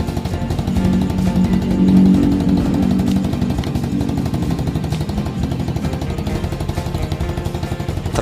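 Motorcycle engine started on a replacement lithium battery, running close and loud with a rapid, even idle pulse that rises briefly early on and then settles into a steady beat without talk.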